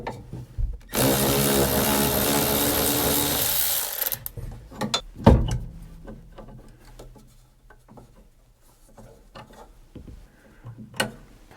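A wrench works a nut off the brake pedal push rod of a Ford F100, opening with a loud steady rasping burst for about three seconds, then scattered metallic clicks and knocks fading to quieter handling.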